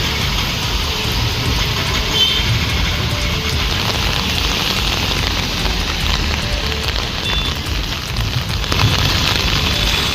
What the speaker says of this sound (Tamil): மயிலாடுதுறை மாவட்டம் தரங்கம்பாடி மற்றும் சுற்றுவட்டார பகுதிகளில் கனமழை பெய்தது.